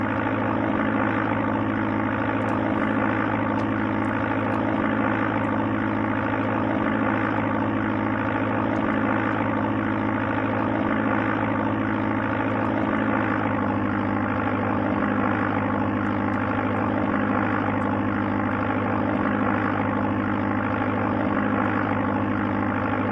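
Steady droning propeller aircraft engine from the Amiga game Sublogic Flight Simulator II, a constant low hum with no talk.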